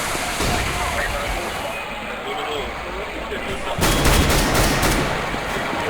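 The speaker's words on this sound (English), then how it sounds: "That auto sniper from Pasha comes under heavy fire on the other side." Heavy gunfire with an auto sniper during a competitive CS:GO match, Dreamhack Winter 2014 semifinal between NiP and Virtus.Pro, as a dense, steady barrage of shots that thickens into louder bursts near the end, mixed under commentator talk.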